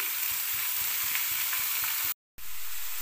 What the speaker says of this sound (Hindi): अब मैं फ्लेम को लो करके कीमे को कुक करूँगी।